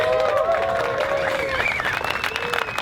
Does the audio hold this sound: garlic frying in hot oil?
no